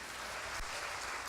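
A church congregation at a celebration service claps in praise, a short, dense patter of many hands at moderate level with no voices over it.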